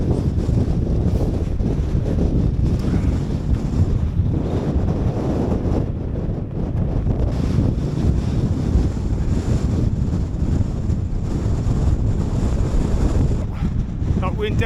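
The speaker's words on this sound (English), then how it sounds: "wind definitely has a bite to it." Cold wind at a wild camp in the Lake District roars and buffets the microphone continuously and loudly, gusting throughout.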